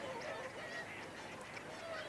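Whooper swans honk and call in a loose group, overlapping bugling notes at moderate distance over a steady outdoor hiss.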